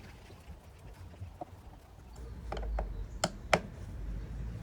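Screws are tightened on the blower housing of an AEG Electrolux condenser dryer: a few sharp, close mechanical clicks and ratcheting ticks over a quiet background, bunched together near the end, with no talking.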